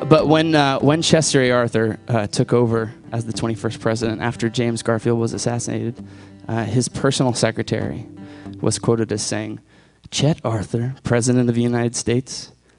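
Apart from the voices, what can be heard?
None of the usual background noises is heard.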